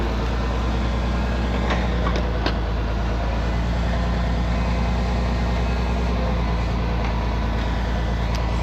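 An old International 1066 tractor that runs a backhoe has its engine running close by, a loud, steady diesel drone with a constant low throb and a few faint metallic clicks, and no voices.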